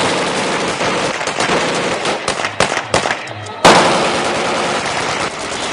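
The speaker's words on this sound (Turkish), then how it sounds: "Balkondan, yol kenarından silahlar ateşleniyor." Celebratory gunfire rattles loudly and almost nonstop at a wedding in Beytüşşebap, Şırnak, with rapid automatic bursts and single shots fired from balconies and the roadside, overlapping into a dense, echoing barrage.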